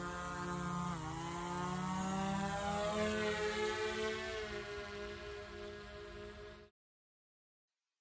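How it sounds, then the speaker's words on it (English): A small survey drone lifts off and flies a pre-planned mapping route over an archaeological site, its rotors a steady, loud whine that rises in pitch as it climbs, running alone without talk before cutting off abruptly. "So I tap this button, the drone's going to think about it for a second, and then up it goes."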